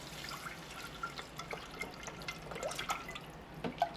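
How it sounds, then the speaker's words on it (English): Broth for carnivore rice being poured into a pan with browned bits on the bottom, a soft steady liquid trickle and faint sizzle with small drips, close and fairly quiet. "So I'm going to put my broth right on in there"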